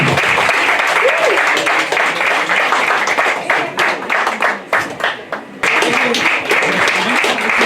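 Enthusiastic applause for vice-president Saphir at a Miss and Mister election event, dense clapping filling the room with cheers and voices mixed in, thinning briefly before surging again.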